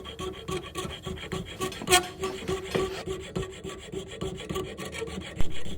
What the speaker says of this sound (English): I used a small file to remove most of the excess